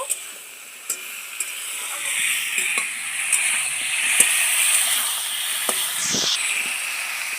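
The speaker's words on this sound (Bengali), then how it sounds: "পরিমাণ মতন হলুদ তেলের মধ্যে লাউগুলো একটু ভালো করে কষিয়ে নেব" Pieces of bottle gourd with turmeric frying in hot oil, a bright hissing sizzle rising and falling, punctuated by a few light knocks and scrapes of a stirring utensil, close and clear without talk.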